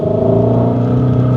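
A Ford Mustang Shelby GT350 V8 engine revs with a loud, steady, deep exhaust rumble held throughout, close by and with no voices.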